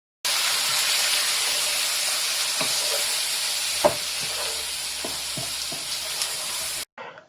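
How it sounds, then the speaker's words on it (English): Lamb shanks coated in spices for nihari sizzle steadily in an oily pot while being stirred, with a constant loud hiss broken by occasional soft clinks of the spoon against the pot. "make sure to give it a good stir so that all of the spices coat all of the meat"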